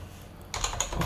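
Computer keyboard typing while entering OpenGL code: quiet room first, then a close run of several distinct keystrokes in an uneven rhythm, with no voices.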